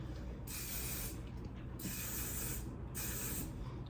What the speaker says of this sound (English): So what I'm gonna do is I'm going to spray